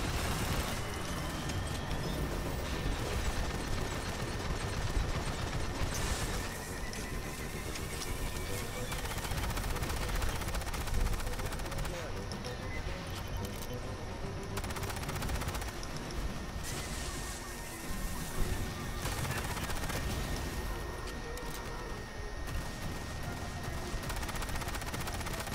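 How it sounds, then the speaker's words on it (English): Sustained video game gunfire with machine-gun bursts during a bug-fighting mission, dense and continuous throughout at a steady, loud level. "Gunfire must have drawn them."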